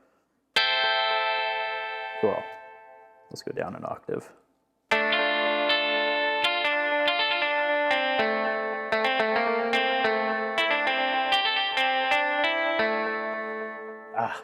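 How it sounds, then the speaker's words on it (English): OP-1 synthesizer notes run through chorus and echo effects, a sustained tone then a long stretch of rapid, bright repeated notes, loud and close, with a brief spoken remark between passages. "Put on a chorus and a blue echo."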